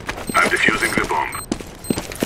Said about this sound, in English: I'm defusing the bomb.